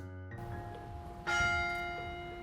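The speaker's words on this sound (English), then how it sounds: "The 35 bells of the carillon here at the Glockenspiel Tower at the Bavarian Inn can be heard across Frankenmuth" Carillon of 35 bells ringing from the Glockenspiel Tower at the Bavarian Inn in Frankenmuth, Michigan, with long, sustained overlapping tones, a new bell struck midway and its resonance slowly fading, heard from a moderate distance.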